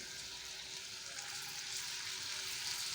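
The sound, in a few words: sautéing tomato with spices for paneer bhurji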